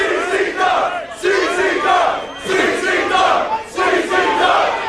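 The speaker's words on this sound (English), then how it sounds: "Listen to this crowd." A wrestling crowd at a deathmatch tournament roars and shouts in continuous loud, surging waves, dense and echoing, with no clear commentary.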